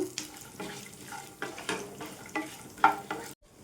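Garlic cloves, dried red chillies and peanuts fry in hot oil with a steady sizzle, broken by rhythmic stirring scrapes roughly every half second, close and moderately loud, ending abruptly.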